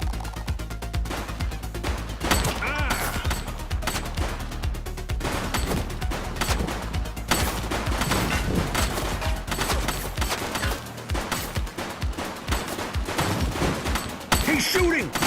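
Gunfire from a suspect in the video game The Precinct: dense, continuous bursts of rapid shots over a heavy low rumble, with voices calling out beneath the shooting.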